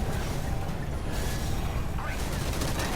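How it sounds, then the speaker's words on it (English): Shotgun blasts tearing through enemies in the video game Spacelords, a dense, continuous barrage of close gunfire with mechanical clatter and game noise. "You see my shotgun just motor tearing through enemies, as it should."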